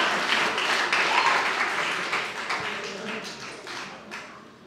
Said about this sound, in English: I did not have pause for applause written in the script, but I have to add it.